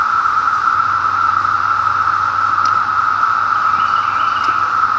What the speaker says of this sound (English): it's the sound of male cicadas flexing their chest